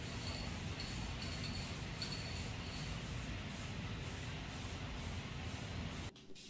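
Spray paint hisses steadily onto a Boba Fett helmet, a continuous close aerosol rush broken by faint rhythmic pulses before it cuts off abruptly near the end.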